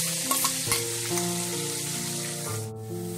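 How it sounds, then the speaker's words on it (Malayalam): Green chilli, garlic and ginger paste sauté in a hot pan for a coconut-milk biryani, a steady close sizzle and fry with light stirring knocks, no voices. "1/2 ടീസ്പൂൺ ഇഞ്ചിയുടെ പേസ്റ്റ് ഇട്ട് നല്ലവണ്ണം വഴറ്റി കൊടുക്കാം."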